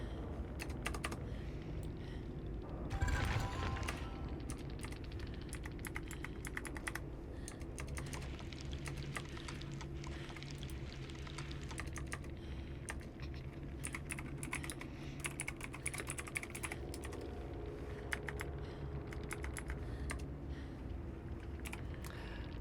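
Fingers type continuously on a new computer keyboard for over twenty seconds, a close, busy run of key clicks with one heavier burst of strikes early on and no talking.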